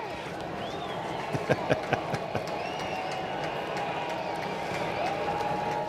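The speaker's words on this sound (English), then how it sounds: "only in Minnesota do you cheer for the snow" Baseball crowd at a Minnesota Twins game against the Tampa Bay Rays in light snow flurries, a broad steady roar of cheering from a distant stadium audience with a few brief claps and knocks near the start.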